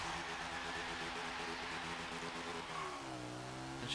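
A 2014 Morgan 3 Wheeler launches in Forza Horizon 3, its engine droning and revving steadily, with a gear change audible near the end of the short, loud burst, and no voices.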